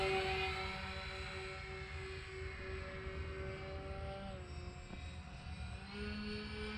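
Twin-motor X-Fly Twin Nova RC model airplane flying at full speed on a sunny afternoon, a steady faint electric whine with slight shifts in pitch as it passes, no talking.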